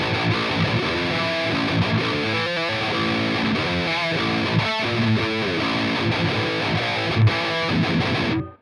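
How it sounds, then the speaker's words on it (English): An electric guitar runs through a simulated Ibanez TSE 808 Tube Screamer overdrive pedal in a metal amp sim, producing a dense, saturated, steady distorted riff with chugging notes and no talking. "Obviously, that is an Ibanez tube screamer."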